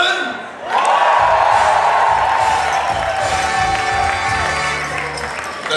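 Concert audience in Irsch breaking into loud cheering and applause after a brief quieter start, the crowd's roar and shouting holding steady and full until it eases slightly at the close.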